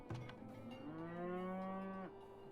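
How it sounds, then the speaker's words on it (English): A cartoonish cow moos in a video game, one long clear bellow that rises and holds steady before cutting off, loud and alone. "What is this cow doing?"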